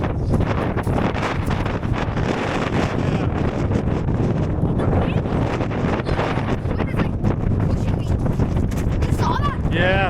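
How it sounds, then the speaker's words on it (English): Strong, steady wind roars and buffets the microphone throughout on a mountain summit, with a brief spoken word heard under the gusts. "It's extremely windy up here."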